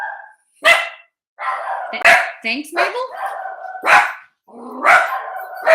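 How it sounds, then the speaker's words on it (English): Two dogs bark inside a house in loud, sharp bursts spread through the clip, with people talking between and over the barks. "You can't get into our house quietly. Two dogs."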